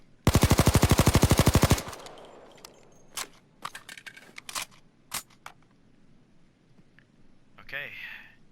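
An HK MP5 submachine gun in the video game Payday 2 fires one loud, rapid automatic burst lasting about two seconds, followed by scattered clicks and handling clatter.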